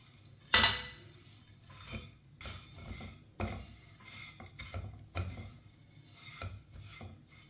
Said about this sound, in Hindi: सेवियों को 2 मिनट के लिए हल्की सी आंच पर भून लेंगे।